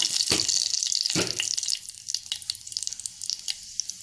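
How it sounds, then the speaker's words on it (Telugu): Cumin and mustard seeds crackle and sizzle in hot oil while tempering spices for soft urad dal vadas, a loud continuous hiss with sharp pops early on that thins into scattered crackles. "ఇలా మనం జీలకర్ర ఆవాలి అయిన పోపు దినుసులు అయితే వేసుకోవాలి"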